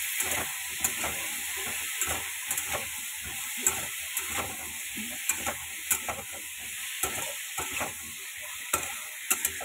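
Sliced tomatoes with salt and turmeric fry in a pan, a steady soft sizzle broken by repeated scraping stirs of a spatula, close and even in rhythm.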